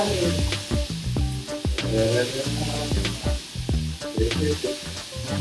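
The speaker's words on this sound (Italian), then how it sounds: "E ora si va a friggere." Fish frying in hot oil sizzles loudly and continuously, crackling close by, with intermittent clinks and scrapes from stirring throughout.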